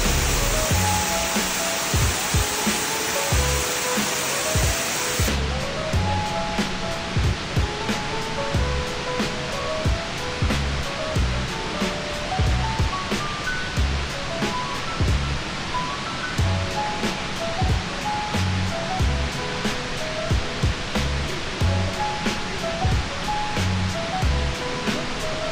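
Steady, loud rush of a waterfall on a rocky riverside stop during a motorcycle ride from Sungai Petani toward Satun, Thailand, a dense unbroken roar with faint scattered knocks and no talk.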